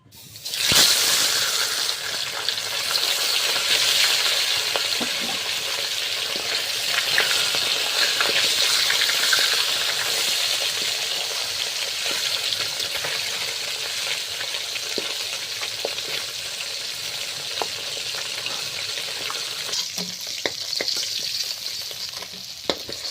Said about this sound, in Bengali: এবার মাছ ভাজা করব।